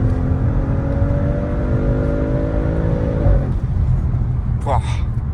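An Audi RS6 C7 estate engine roars loudly under steady road noise, a rising whine climbing in pitch, then cutting off sharply, followed by a brief higher chirp.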